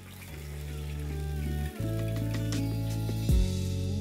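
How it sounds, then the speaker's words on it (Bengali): Pieces of katla fish frying in hot oil in a pan, giving a steady, close sizzling hiss over a low hum, briefly dipping midway and then continuing without pause. "এবার এই একইভাবে আমি বাকি মাছগুলোকেও ভালো করে ফ্রাই করে নিচ্ছি।"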